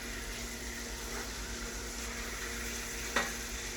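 Pork chops sizzle steadily in a hot pan in a home kitchen, a constant close frying hiss with one sharp clink near the end.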